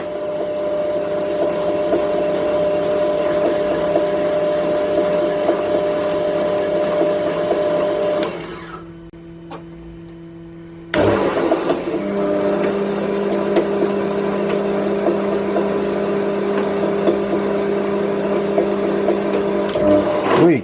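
Homemade lathe running with a steady mechanical hum and whine, cutting out abruptly for a couple of seconds when it drops out of gear, then starting back up at a slightly different pitch and carrying on steadily.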